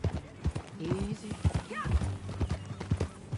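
Horse hooves clip-clop at a steady walking rhythm in the video game Red Dead Redemption 2, close and clear, with a short whinny and people talking over the hoofbeats.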